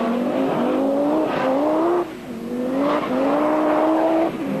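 A big Division 2 Audi rallycross car races at Lousada in 1995, its engine loud and close, rising in pitch through the gears, dropping off briefly and climbing again in a second run.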